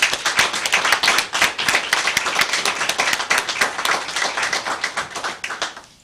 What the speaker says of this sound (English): If you can join me giving them a round of applause.